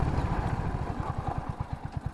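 A Royal Enfield Hunter 350 motorcycle engine runs with a steady low, pulsing thump during braking, loud and close throughout with no talk.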